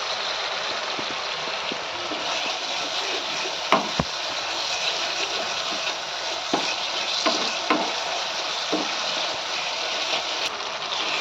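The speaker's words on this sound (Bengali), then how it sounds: "দিয়ে দেবো পরিমাণ মতো একটু হলুদের গুঁড়ো দিয়ে মশলাটাকে ভালো করে কষিয়ে নেবো" Spice paste with chili and turmeric powder fries in a pan for a mutton and potato curry, a steady close sizzle with occasional stirring clicks and scrapes against the pan.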